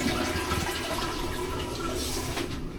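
A toilet flushes inside a cabin aboard the Queen Mary ship, a steady broadband rush of water lasting throughout, close and fairly loud with no voices.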